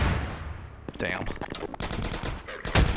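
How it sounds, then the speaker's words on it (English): Rapid bursts of automatic gunfire and sharp shots in Half-Life, loud and dense throughout, with a voice briefly heard amid the shooting. "were you shooting past me?"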